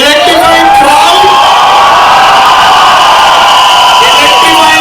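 A packed college crowd in a lit-up hall cheers, whoops and yells without a break, loud and close, with shouted calls rising over the steady roar.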